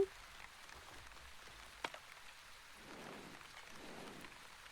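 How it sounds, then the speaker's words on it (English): Steady rain patters in a video game, a soft continuous hiss of drops that swells gently in the second half, with one brief sharper tap partway through. "It's raining."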